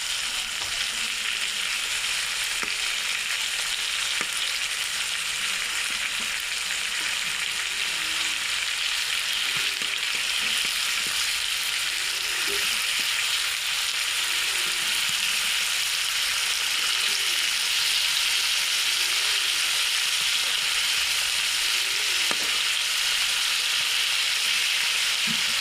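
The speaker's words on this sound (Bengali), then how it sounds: "এই পোনা মাছটা আমার ভাজা হয়ে গেছে" Tuna fish frying in a pan over very low heat, an even, continuous close sizzle and hiss with occasional soft stirring touches, steady in level for the whole stretch with no talking.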